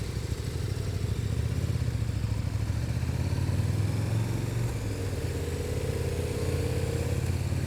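A 2014 KTM 1290 Super Duke R engine rumbles steadily while riding, a close, even low drone with slight pitch shifts and a rising note near the end, no voices over it.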